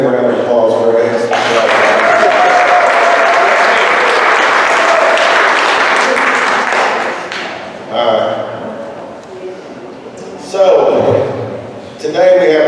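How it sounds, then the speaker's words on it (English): A room of staff gives their supervisors a round of applause, loud and sustained for about eight seconds, then fading into scattered claps, thumps and people talking. "Let's give them a round of applause for us"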